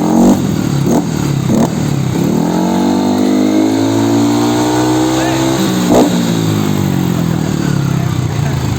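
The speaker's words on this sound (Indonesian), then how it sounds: "Udah nyala dong motornya." A Yamaha Nmax scooter bored up to 180cc runs close by with a loud, steady engine drone, rising and falling through several revs, while voices talk faintly underneath.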